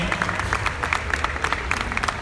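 Crowd applause at a youth Sardo Negro cattle show championship, steady close clapping from many hands that continues throughout.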